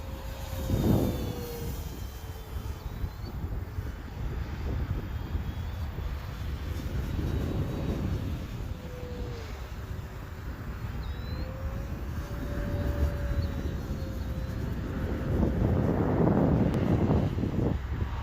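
An FMS P-47 Razorback RC model airplane with a 1500mm wingspan drones steadily overhead, its pitch rising and falling as it passes, with gusts of wind buffeting the microphone throughout.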